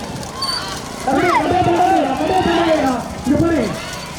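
Racing bullock carts pass close by during a rekla race at Perumal Kovil, Pattukkottai, with hoofbeats and clattering wheels under loud, excited shouting from people along the track.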